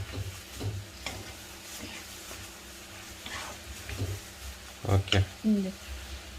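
Tomatoes and tamarind stirred in a pan for coriander tomato pachadi, with a few scattered scrapes and clicks of the spoon against the pan, louder near the end.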